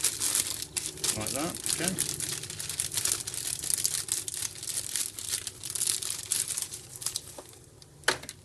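Plastic packaging around Subaru Impreza/Forester cabin filter inserts is torn and crinkled open by hand, close and crackly in short bursts, with a person talking over it.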